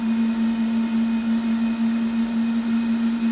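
A stand mixer whips a chocolate marshmallow mass while sugar syrup is poured down the bowl's sides, giving a steady, close motor whine with a strong constant hum and no voices.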